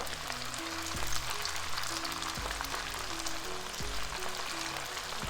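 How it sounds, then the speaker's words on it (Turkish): Spring rolls filled with vegetables and chicken fry in hot oil, sizzling and crackling continuously at close range, a dense frying hiss with no talking, while soft music plays faintly underneath. "Şimdi kızartmaya başlayabiliriz. Yağımız ısındı. Hemen atalım."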